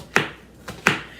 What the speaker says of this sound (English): now I'm chopping up